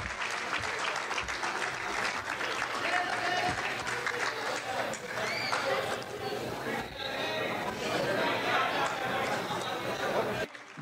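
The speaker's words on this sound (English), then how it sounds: "we've got to give an applause to our young players here." A crowd applauds young cricket players at a club gathering, sustained clapping throughout with chatter and voices mixed in.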